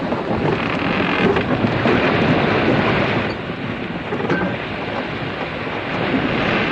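A sea storm with gale and rain roars steadily and loudly, broad rushing noise with faint rumbles beneath and a brief easing midway, no voices.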